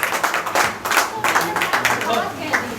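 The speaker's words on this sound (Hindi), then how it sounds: "जोरदार तालियां, जोरदार तालियां" Audience clapping for a poet at a Hindi poetry recital in Kanpur, a steady patter of hand claps under a speaking voice for about three seconds.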